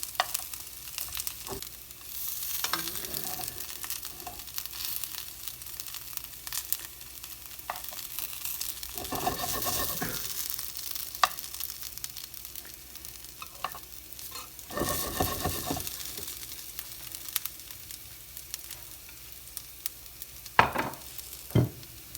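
Cornflake-coated chicken strips frying in a pan, a low steady sizzle broken by several louder bursts of scraping and shifting as the pieces are turned over, close by with no talking.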